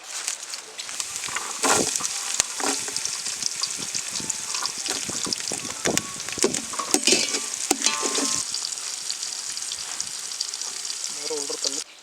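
Chopped shallots sizzle and fry in a pan for a South Indian fish curry (meen kulambu), a loud continuous crackle with stirring scrapes throughout and no talking.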